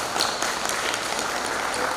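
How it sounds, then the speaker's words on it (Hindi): Applause from a crowd at an International Yoga Day gathering greets the arriving chief guest as a steady wash of clapping through both seconds. "एक बार उनके लिए तालियों से स्वागत करना।"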